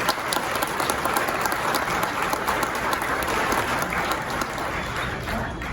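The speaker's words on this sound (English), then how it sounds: "how about a round of applause for David Wright" An audience at a sheriff's department promotion and awards ceremony gives a sustained round of applause for David Wright, dense and even clapping that holds for several seconds before slowly thinning out.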